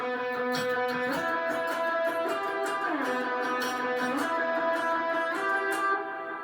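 A steady acoustic-style guitar strumming pattern with chords ringing clearly and evenly, a moderate rhythmic pulse and few percussive hits.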